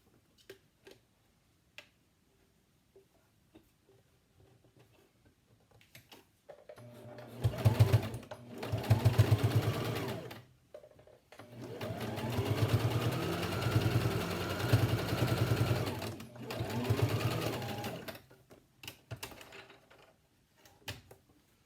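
A sewing machine hums and rattles in two long stitching runs across a 4 ply fabric face mask, close and steady, with quiet ticks and handling noise before and between the runs.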